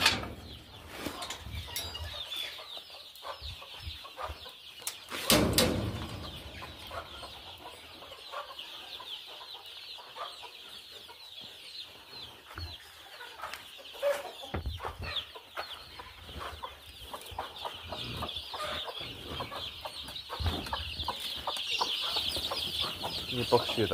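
Desi village chickens in a farm pen, scattered clucks and soft calls at moderate distance with occasional wing flaps, a voice speaking intermittently among them.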